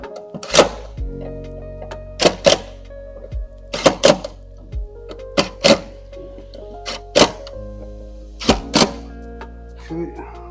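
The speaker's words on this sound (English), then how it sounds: "I'm gonna tighten my screws back." Screws being tightened on a continuous piano hinge door: a series of sharp clicks and thunks of the driver and hardware, about ten distinct hits spaced irregularly, close and fairly loud with quiet gaps between.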